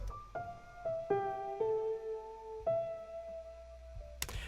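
Lo-fi piano track run through a vibrato plugin, sustained piano notes and chords with subtly wavering pitch, entering in a series of phrases over a soft low bed, with a brief loud burst at the end.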